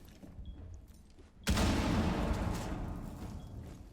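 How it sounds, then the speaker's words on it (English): Explosions during a Rainbow Six Siege match, with a sudden loud blast about halfway through followed by a long, fading rumbling tail over quiet background game ambience. "At least that's where all the explosions are."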